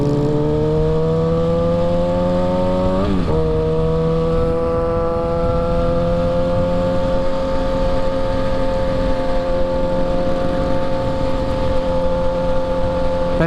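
A Harley motorcycle rolls past with a steady, loud, low engine rumble that keeps going throughout, its pitch dipping briefly once early on and then holding even.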